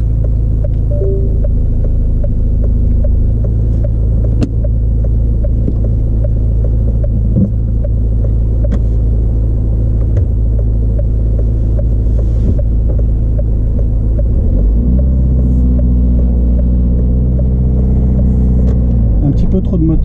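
A car engine hums steadily during a driving lesson, then revs up sharply to a louder throbbing drone near the end, heard from inside the cabin.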